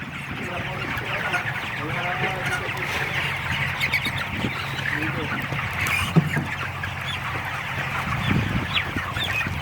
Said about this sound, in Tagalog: Ang kapal ng manok